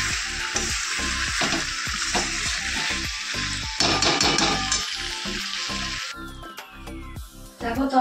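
Meat being sautéed and stirred in a pan on a gas stove, giving a steady close sizzle with scraping spoon strokes throughout; the sound drops slightly toward the end.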